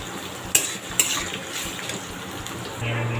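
Sliced onion in a pan is stirred while frying: two sharp utensil clacks against the pan over a soft, low sizzle. A faint hum comes in near the end, and no one speaks.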